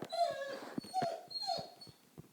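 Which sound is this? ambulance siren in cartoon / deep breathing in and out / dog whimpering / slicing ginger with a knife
dog whimpering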